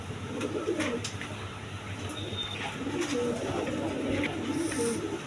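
Young pigeons for sale coo repeatedly in soft, low, throaty phrases close by, over a faint steady background hum.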